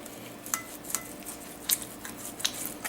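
A knife saws through a Walmart steak on a plate, giving faint, sparse clinks and scrapes of metal on ceramic in a quiet room with no one talking.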